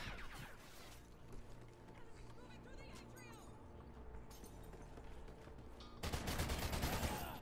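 Video game gunfire during a drop-shot practice match, with a sustained rapid burst of shots over busy game sound, ending in a louder, denser barrage in the final seconds.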